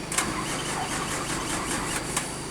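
A bus engine stalls and restarts on the Endikat bend, giving a rough, close, labouring mechanical drone with a couple of sharp catches as it turns over. No one speaks.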